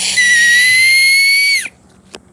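A loud, shrill whistle is blown through thumbs held in a V against the lips outdoors on a nature walk, held steady for over a second before cutting off, followed by a faint breath.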